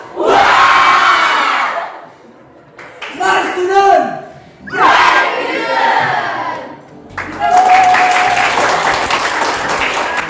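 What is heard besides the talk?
students shouting a class cheer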